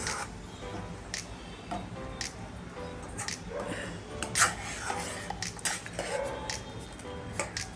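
A spoon stirs mango kulfi mixture with soaked cashew paste in a bowl, giving soft scraping and light clinks against the bowl, with a few sharper taps.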